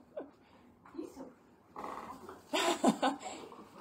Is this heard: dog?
yes